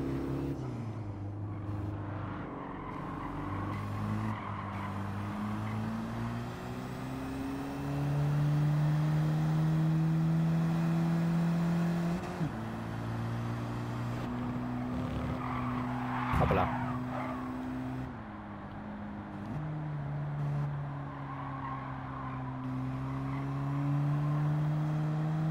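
A small Japanese car's engine in Gran Turismo 7 climbs and drops through gears with steady revving tones, tire squeal surfacing now and then, close and continuous throughout.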